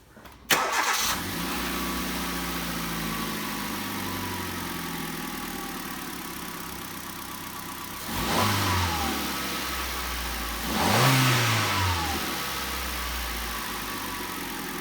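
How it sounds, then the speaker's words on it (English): A Hyundai i10 engine cranks and catches, settles into a steady idle, then revs up twice with rising and falling whine before returning to idle. "I will first start the car and I will show you how it sounds like"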